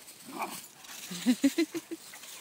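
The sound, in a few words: dog Twiggy barking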